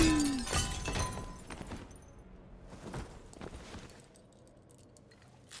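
Glass window in the Detroit video game pushed through and shattering, a sharp crash near the start followed by scattered tinkling debris and footsteps fading out.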